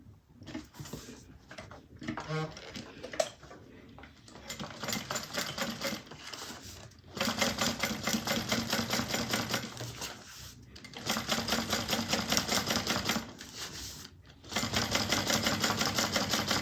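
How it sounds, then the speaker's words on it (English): A sewing machine top-stitches through the bottom of a clutch lining, its needle chattering in long, steady runs broken by short stops, close and loud, with softer, slower stitching at the start. "we're going to top stitch through the bottom of the lining, 1/8 of an inch away from the seam"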